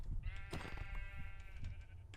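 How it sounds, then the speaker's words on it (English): Sheep bleating in the Minecraft video game, a single wavering bleat heard clearly over low background rumble. "I saw a sheep over here"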